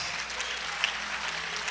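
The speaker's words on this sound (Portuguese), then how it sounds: "Dê um aplauso ao Senhor Jesus." Steady applause from a church congregation at an Easter night service fills the whole moment, dense and even without a break, with no voices over it.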